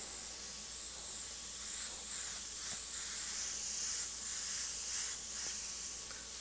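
An airbrush sprays light gray paint along the edge of a mask, giving a steady, close airy hiss that holds evenly throughout with no voices.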